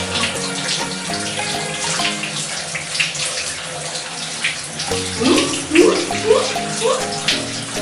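Water runs steadily while a pet dog is bathed, a continuous splashing flow like a filling tub, with sharper splashes and wet movement toward the end.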